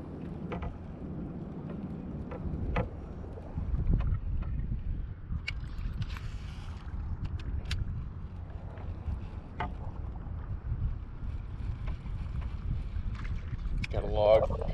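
Wind gusting across open water during kayak bass fishing, a low, rumbling buffeting against the microphone with scattered knocks and paddle or hull bumps, continuing the whole time.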